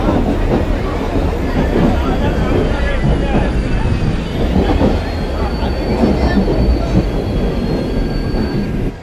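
A simulated passenger train brakes on the approach to Byculla in a train driving game, a loud continuous roar of wheels on rail topped by sustained high squealing and faint clatter, fading at the very end.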